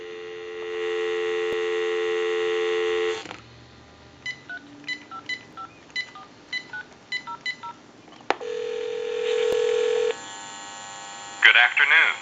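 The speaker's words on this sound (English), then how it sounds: "Give you some dial tone" A steady, close dial tone sounds on a General Electric cordless phone line for about three seconds, then stops. A quick series of touch-tone dialing beeps follows, and then another steady line tone.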